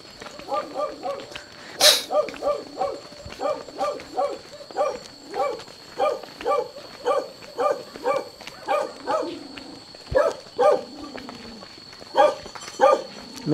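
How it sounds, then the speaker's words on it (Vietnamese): A dog barks over and over in a steady, evenly spaced rhythm, roughly two barks a second for the whole stretch, fairly close and loud in a quiet rural setting. "con chó cứ kêu suốt"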